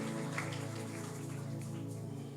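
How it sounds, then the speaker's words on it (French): Rain falls during a church service, a soft, steady patter of drops over a low, constant hum, fairly quiet and unbroken, with no speech. "Merci Seigneur pour cette pluie qui va s'arrêter avant que nous puissions terminer les cultes."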